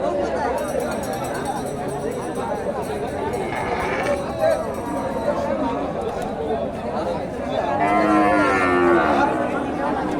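Cattle, including Friesian cows, moo repeatedly, near and far, over the constant chatter of a crowded livestock market in Bogura, Bangladesh, with people talking close by.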